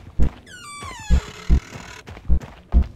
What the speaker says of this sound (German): Oh, geht die Tür schon wieder zu.